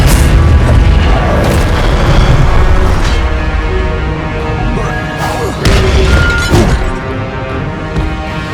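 Incendio fire spell blasts in Hogwarts Legacy, loud repeated booming bursts over continuous dense game noise and music.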